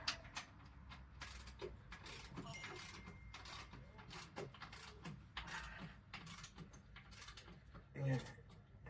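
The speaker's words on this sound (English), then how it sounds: "Let me bring the torque wrench" Torque wrench ratcheting on a bike wheel being tightened to 100 newton meters, a run of quick clicking ratchet strokes, faint and close, with some talk around it.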